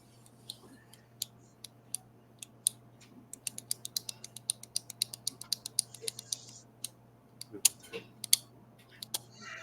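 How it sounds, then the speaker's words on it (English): Sharp, separate clicks of a pen come in an irregular run of close, crisp taps, some in quick pairs, over a steady low hum with no talking. "Clicking of a pen."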